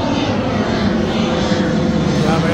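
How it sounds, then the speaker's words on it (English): Steady roar of an airplane engine passing overhead, loud and continuous throughout. "We have airplanes flying about."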